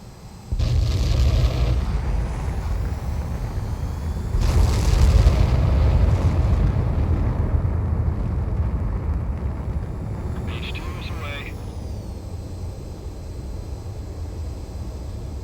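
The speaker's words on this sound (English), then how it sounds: "begin takeoff sequence" Jet engines roar as a fighter takes off in the combat flight game Ace Combat 7, a loud sustained rumble that surges around the fifth second and then holds steady, with brief higher-pitched whines near the end.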